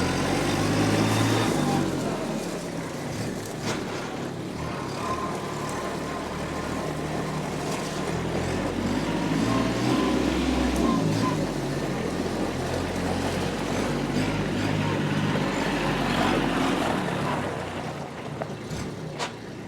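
A 2020 Kubota B2401 compact diesel tractor loader backhoe, 24 HP 4x4, drives steadily in third gear, its engine droning loud and continuous throughout.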